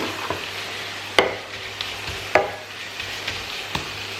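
Chicken mince with mixed masala sizzles steadily in a pan, with a few sharp scraping strokes of a spoon stirring it, close and fairly loud, no voices.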